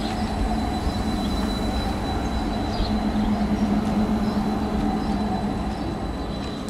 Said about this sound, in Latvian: Tramvajs.